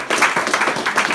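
A panel discussion audience claps briefly, a fairly soft, scattered patter of hands in a room.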